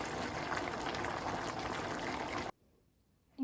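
Zucchini and carrots boil in a pot, close and steady, bubbling for a couple of seconds, then it cuts to near silence.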